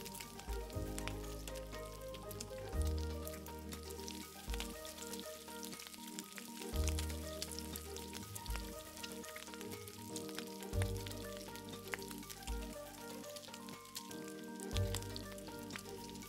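Fresh basil is stir-fried for pad kaprow, a continuous sizzle and crackle of hot oil with repeated scraping and tossing strokes every couple of seconds, close and without talk.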